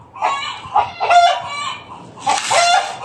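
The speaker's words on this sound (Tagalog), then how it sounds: "yung ating silky na hen" A silky hen clucks and calls in a backyard flock, a few short nasal bursts in uneven rhythm, close and fairly loud, with no talk over them.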